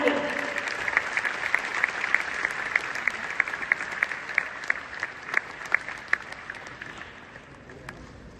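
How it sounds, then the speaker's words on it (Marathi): Loud, sustained applause from a large crowd, many hands clapping steadily with sharp individual claps standing out, fading slightly toward the end. "जोरदार टाळ्या"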